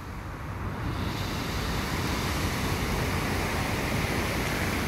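Strong wind blows at Hilo Bay in Hawaii, a loud, steady broadband roar buffeting the microphone, with no voices.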